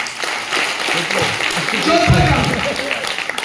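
A short burst of applause from a seminar audience, clapping loud and close for a few seconds, with voices mixed in.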